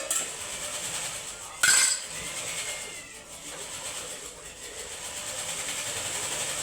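Oil mixed into sesame chutney with a spoon makes quiet, steady scraping around the bowl, broken by one sharp metallic clink.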